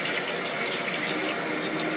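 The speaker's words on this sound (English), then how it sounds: "I need to turn the water on." Tap water running steadily into a sink for hand washing, a constant bright hiss and splash with no breaks and no talk.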